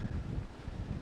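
Strong wind buffets the microphone at a coastal lighthouse on Scotland's most southerly point, a steady low roaring rumble with no voices.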